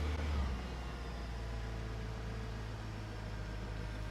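A Honda car engine running after a fuel injector fix, with a brief blip of throttle at the start that settles into a steady, low idle drone.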